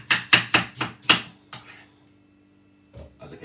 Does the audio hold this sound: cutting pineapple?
yes